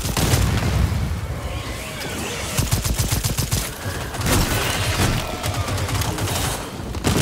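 Gunfire and explosions from the video game Second Extinction fill the scene with dense rapid bursts of automatic fire and heavy booms, continuous and loud, with voices talking underneath.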